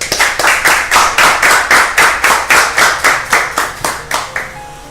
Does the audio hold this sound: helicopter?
no